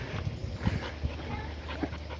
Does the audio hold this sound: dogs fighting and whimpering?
yes